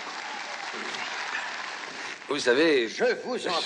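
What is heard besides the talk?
audience applause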